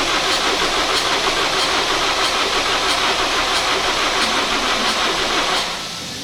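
BMW 320d E46 diesel engine with a VP44 pump running loud and steady right after starting, a dense continuous rattle that drops to a quieter idle near the end.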